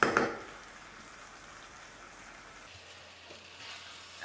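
Butter and mincemeat sizzle softly in a pan over heat, a faint steady crackle with a brief louder burst at the start and no talk.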